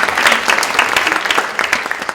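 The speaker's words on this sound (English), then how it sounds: "Let's give it a round of applause." A panel discussion audience claps in a moderate, uneven burst of applause, individual hand claps distinct and close, thinning slightly toward the end.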